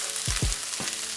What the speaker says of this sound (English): Now that everything's frying off, I'm going to add my masala.